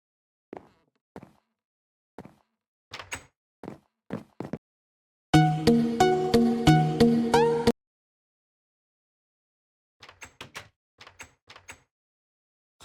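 Wooden door in the Minecraft video game heard in a dry sequence: sharp single clicks, a continuous rapid rattling burst of about two seconds, then more clustered clicks, loud and close with no talking.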